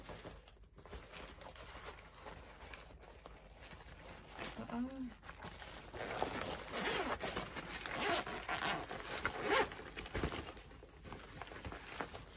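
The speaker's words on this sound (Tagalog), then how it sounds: "Saan yung zipper niyan?" Rapid scratchy zipper pulls on a small item bought online, repeated in quick bursts at close range, with faint rustling and a brief voice in between.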